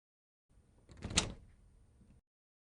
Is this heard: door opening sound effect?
yes